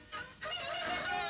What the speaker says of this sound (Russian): О, слышь, петух запел.